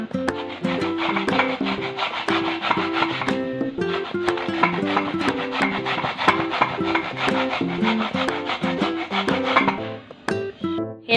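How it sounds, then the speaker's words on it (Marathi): Fresh coconut pieces are scraped on a hand grater in quick, continuous rasping strokes, steady and close, over a background of tuneful music. "हे नारळाचे तुकडे आहेत ना अशा प्रकारे ह्या किसणीने किसून घेतलेले आहेत"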